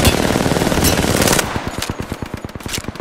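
Rapid automatic gunfire in the game Apex Legends, loud and close, a dense burst that breaks into distinct evenly spaced shots.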